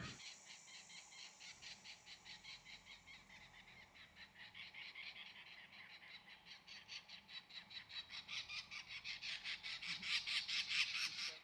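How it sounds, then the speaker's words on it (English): Red-winged parrots feeding in trees call in rapid, rhythmic bursts of chattering screeches, repeating steadily and growing louder and busier toward the end. "We've woken up to the sound of all these red-winged parrots, which are just feeding in these trees"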